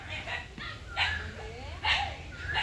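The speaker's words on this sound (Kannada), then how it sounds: "ನಮ್ಮ ನಾಯಿ ಕಿಚ್ತಿದೆ." A dog at home whines and yips in short, rising, high-pitched whimpers spread across a few seconds, fairly faint, with a person talking nearby.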